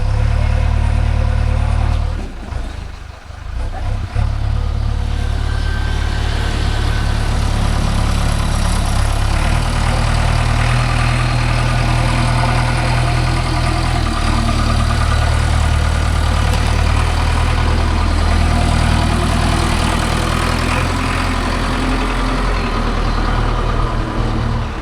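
A JCB 3DX backhoe loader engine idles at a soil loading site, a steady, loud diesel rumble that holds nearly constant, with a brief dip early on, and no talk over it.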